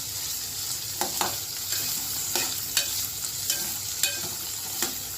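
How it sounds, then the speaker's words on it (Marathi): Food sautéing in an uncovered pan over medium gas, turned over and over with a spatula: a continuous hissing sizzle punctuated by regular scraping strokes about once a second, near and without voices. "मी परतून घ्यायचं, सारखं परतायचं"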